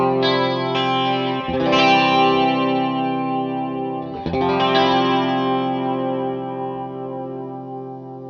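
An electric guitar rings out through an Empress Nebulus pedal set to multi-chorus, giving a smooth, thick shimmer. Two sustained strummed chords each fade slowly, loud and alone.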